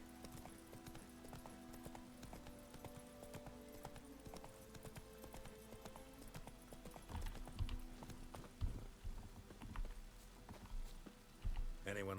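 Rhythmic clip-clop of horse hooves walking at an even pace in the video game The Witcher 3, with a soft background hum and occasional louder thuds near the end.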